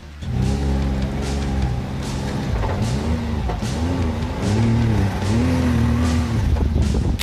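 A Can-Am off-road vehicle revs loudly and steadily as it spins in donuts, its engine pitch rising and falling in repeated sweeping arcs with tires scrubbing, close and continuous with no talking.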